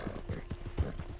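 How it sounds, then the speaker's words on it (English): Horse hooves clip-clop in a video game, a rapid, steady run of close, soft thuds in an even rhythm. "you ran right into the side of my horse"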